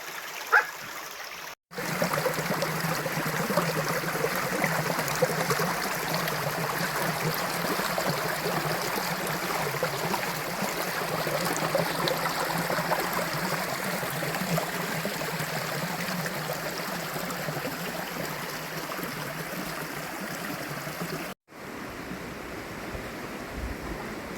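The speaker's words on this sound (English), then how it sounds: "There's a lot of water coming down this river." A swollen river rushes after storm rain on a rural Cornish lane, a loud, steady roar of churning water close by that runs unbroken for about twenty seconds, with brief dips at the start and end.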